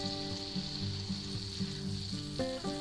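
Butter and garlic sizzle steadily in a hot pan for ribeye steak, a close, continuous frying hiss with faint tonal hum running underneath and no talking.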